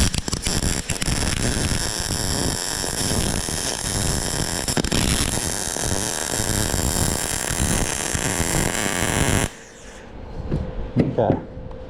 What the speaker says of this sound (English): Now I'm going to weld